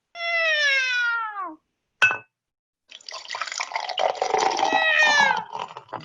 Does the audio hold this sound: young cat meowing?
yes